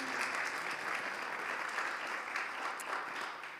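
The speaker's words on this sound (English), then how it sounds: "Yes, you can applaud." A modest audience claps steadily and evenly for a few seconds, moderately loud with no talking over it.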